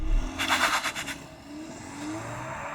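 A BMW 320i launches from a standstill in a 0-60 run, a faint engine rising through the revs with a brief chirp of wheelspin, heard from a distance.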